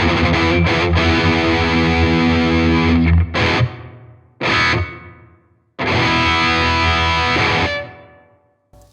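Distorted electric guitar played loud through an ENGL Ironball SE amp with reverb, heavy sustained chords broken by short pauses where the reverb tail rings out before playing resumes.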